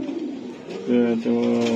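Racer pigeons cooing at a farm, soft low throaty coos repeating in two or three drawn-out phrases, close by.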